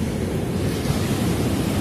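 Waves wash steadily onto a beach, a continuous roaring surf with a wind-blown rumble and no voices.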